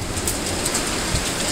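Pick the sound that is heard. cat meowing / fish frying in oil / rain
rain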